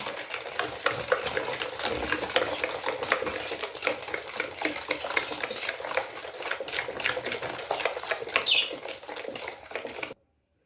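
Butter, eggs, sugar and lemon zest for cookies are stirred together in a bowl, giving a steady run of close scraping and clicking strokes that stops abruptly at the end.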